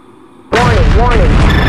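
An SA-3 missile launching in the flight simulator Falcon BMS, a sudden loud roaring blast that cuts in from near silence and holds as a dense rushing roar, with a warbling warning tone over it.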